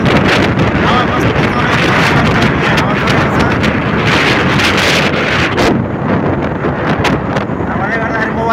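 Strong gusting wind on a hilltop near Banau batters the microphone with loud, rough buffeting that swells and dips, while a voice is heard faintly beneath the roar.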